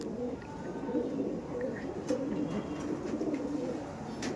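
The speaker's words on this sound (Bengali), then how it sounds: "এইবার যে পায়রাগুলো দেখাচ্ছি দেখুন দাদার কাছে।" Andhra pigeons coo softly and steadily over a continuous low murmur, the cooing blending into a dense background of birds close by with no clear break.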